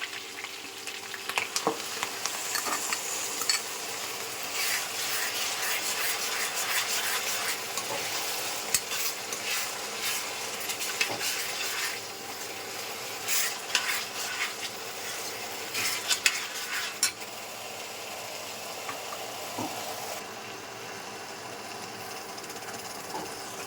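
Onion paste fries in oil in a pan with steady oily sizzling and crackling, occasional stirring scrapes and clinks, close and continuous with no voices.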